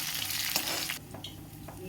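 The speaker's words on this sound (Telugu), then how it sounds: "పచ్చిమిర్చి వేసుకొని ఫ్రై చేసుకోవాలి" Green chillies frying in oil in a pan, a close, bright sizzle that is loud at first and then eases, with a few scraping stirs.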